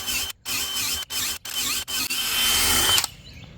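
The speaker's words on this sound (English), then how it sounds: "Working with a big drill bit, you need to work it in and then pull the wood out" A power drill with a big bit bores through wood for a dock bench built on pilings. The motor whines in loud, close bursts with short pauses, then runs in one longer steady push before cutting off.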